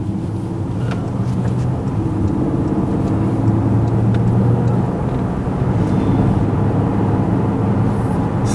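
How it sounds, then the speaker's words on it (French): A Porsche Panamera e-Hybrid cruising on a motorway in sport mode, its steady engine drone and road rumble continuous and loud throughout, with no talking. "Là, on prend l'autoroute en mode sport."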